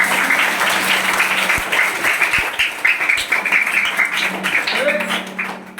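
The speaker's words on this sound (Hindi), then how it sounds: "जोरदार ताली से" Audience applause for a performer at a theatre workshop, steady dense clapping that carries throughout at close range and fairly loud, with a voice speaking over it.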